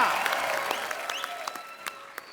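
Studio audience on a Hindi TV comedy talk show applauds a guest's entrance, a busy wash of clapping that gradually tapers off as musical tones ring underneath.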